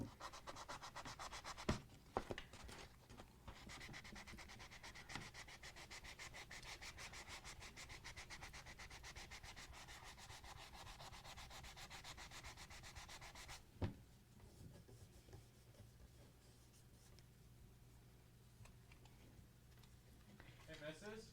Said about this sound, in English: we're going to see how loud sanding is on stream